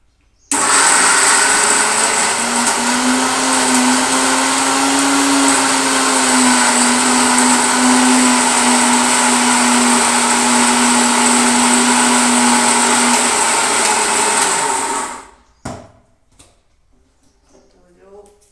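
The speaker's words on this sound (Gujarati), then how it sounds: "આદુ ને મરચાં સરસ સારી રીતે પીસી લીધા છે." A mixer grinder runs steadily for about fifteen seconds, grinding ginger and green chillies in a home kitchen, with a loud continuous whine that cuts off abruptly and leaves a few faint clicks behind.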